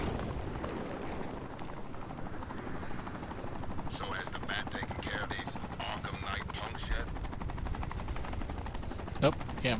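A helicopter in the video game Batman: Arkham Knight, a steady rotor drone throughout with bursts of higher chatter in the middle and a sharp hit near the end, heard under faint game sounds.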